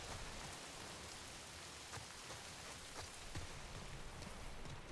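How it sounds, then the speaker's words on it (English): Steady rain falls outdoors on a cold evening, a soft, continuous patter with scattered drops, faint and even throughout with no voices. "Because I am just getting rained on."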